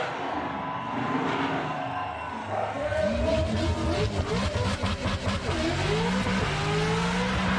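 At the Summernats burnout competition, a car's engine revs hard and rises in pitch as its tyres squeal and roar through a skid, loud and sustained with rapid surges, while crowd noise sits beneath.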